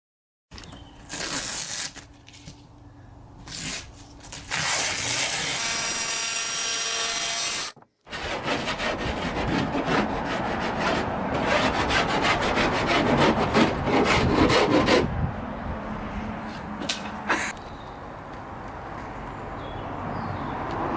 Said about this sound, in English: Just get filing some edges